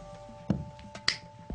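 A few sharp finger snaps crack out close and distinct during a card magic trick, one especially crisp, over a faint steady hum.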